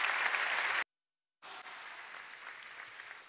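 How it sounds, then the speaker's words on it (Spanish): Audience applause in tribute at a memorial ceremony, a dense wash of clapping that breaks off abruptly into silence for about half a second, then resumes and carries steadily to the end. "Para ellos un aplauso de reconocimiento de toda una patria que no olvida ni olvidará"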